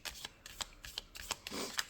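Tarot cards being shuffled give rapid, crisp riffling snaps and light slaps in quick irregular bursts, close and fairly quiet with no talking.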